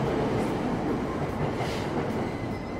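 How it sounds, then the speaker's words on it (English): A subway train ride in Persona 5, with a steady rumbling rail roar and faint clickety-clack of wheels continuing throughout, loud and even, with no voices. "I just wanted to ride the subway again"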